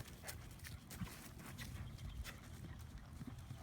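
Horse walks during a riding lesson, its hooves clip-clopping on the ground in a steady, fairly quiet rhythm, close by, with no talk.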